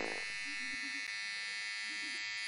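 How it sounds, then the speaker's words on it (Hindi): An electric trimmer buzzes steadily and loudly as it cuts through an onion, a constant high whine running throughout. "मेहनत से बनाए गए इन एप्स पे ट्रिमर से प्याज काट रहे यार"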